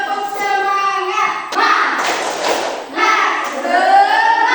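A class of children standing up together and clapping a spirited rhythmic clap, several bursts of loud group claps with children's voices mixed in.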